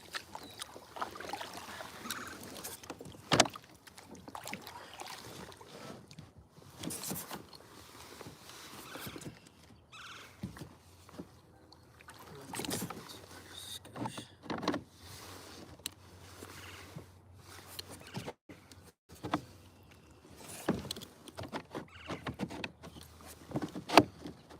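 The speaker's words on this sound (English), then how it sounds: "Let's go ahead and paddle." Kayak paddling on open water, with irregular splashes and paddle strokes rising and fading over steady low background noise, several sharper knocks against the hull scattered through the stretch.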